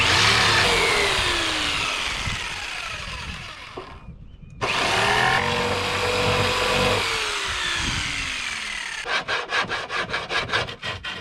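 A jigsaw saws through wood for a wooden boat's propane locker, with a loud, continuous buzzing cut that stops briefly and then resumes, ending in a run of rapid rhythmic strokes.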